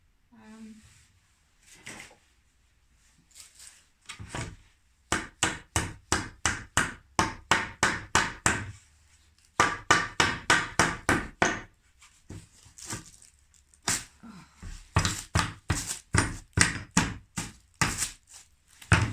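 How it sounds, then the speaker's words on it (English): Repeated sharp hammer blows on wood in quick bursts, knocking nails out, with short pauses between runs of strikes; fairly close and loud. "I want to try and get some of these nails out, so I'm just going to hammer"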